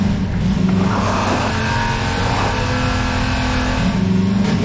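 Car engine in Half-Life 2 driving steadily at close range, a continuous loud motor drone with a low hum and slight revving swells throughout, no voices.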